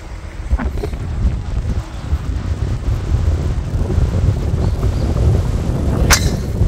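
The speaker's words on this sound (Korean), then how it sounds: "뒷바람, 맞바람, 옆바람, 아, 바람 많이 불면 정신없어." Strong wind roars across an open golf course in Cheongdo, a steady low rumbling buffet against the microphone throughout, with a brief sharper gust-like burst near the end.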